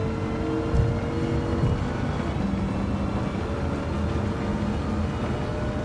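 A Dodge Viper SRT10 Coupe engine drones steadily in a racing video game, a sustained low-pitched roar with little change in pitch, close and even throughout.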